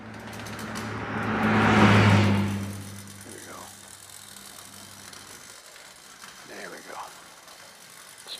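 A GESCHA Sixmobil wind-up toy car with hard tires whirs and rattles mechanically as it skids across a slick floor, the buzz swelling loud early and then fading to a softer running grind.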